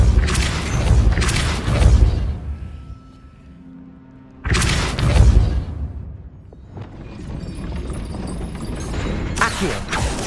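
Depulso, a force-push spell in the Hogwarts Legacy video game, fires off with loud, deep whooshing booms: a heavy burst, a lull, then a second surge trailing into rumbling effects.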